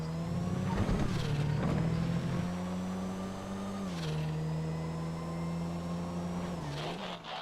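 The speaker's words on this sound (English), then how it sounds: "There's one of the drag cars." A drag car engine in the GTA FiveM racing game hums at a steady high pitch, close and constant, with brief gear-shift dips, and there is no talking.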